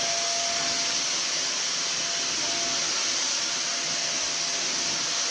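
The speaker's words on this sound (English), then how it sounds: "You like your own Hoover?" A Hoover vacuum cleaner sucks up crumbs under a table, a steady, loud, airy whine and hiss that runs unbroken from start to finish with no talking.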